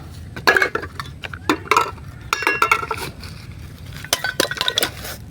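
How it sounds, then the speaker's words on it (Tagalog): Collected tin cans clink and rattle as they are loaded into a sack for a junk shop, a close, irregular run of metallic knocks and jangles lasting several seconds with no talking. "inasikaso na nga rin namin ilagay sa sako tong mga naipon naming lata"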